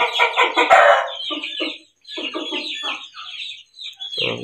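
An Aseel champion rooster clucks and calls close by in loud, choppy bursts separated by short pauses, with a harsher crowing-like cry at the start.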